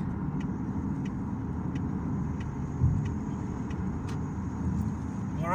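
Car engine droning steadily while cruising on a freeway, with road rumble and tire noise throughout and a brief bump near the middle as the driver changes into a higher gear.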